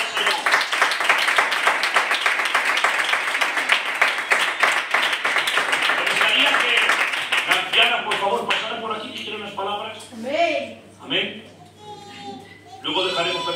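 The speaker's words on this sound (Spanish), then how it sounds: "Damos un fuerte aplauso al Señor." Church congregation applauding during a free worship service in San Blas, dense loud clapping for about eight seconds that then stops, followed by a preacher speaking in a large room.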